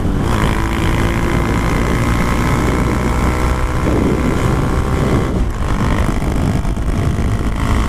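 Honda Grom motorcycle fitted with a 17T sprocket accelerating slowly at the top end of 4th gear, its small engine droning loud and steady at high revs with heavy wind noise and no talking.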